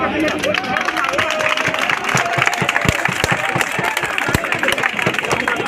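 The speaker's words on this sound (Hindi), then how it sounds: "अपने लिए जोरदार तालियां चाहिए।" A crowd claps loudly and continuously, a dense wash of applause with a voice talking over it.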